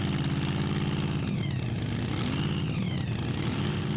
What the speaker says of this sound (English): And the next tractor is Burning Baby from Sweden.